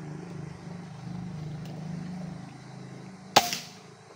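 A single sharp shot from a newly built PCP airgun during a precision test, one crisp crack near the end after a low hum of background noise, fairly close and loud with no voices.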